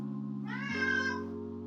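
A single clear cat meow, rising and then falling, heard close up over a steady low electrical hum.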